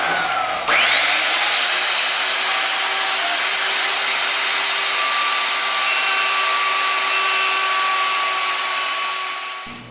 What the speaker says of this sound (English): now I'm going to router this out for the petcock